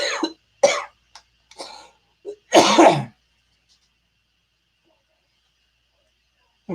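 A few short breathy laugh bursts followed by a louder, harsh cough, then silence.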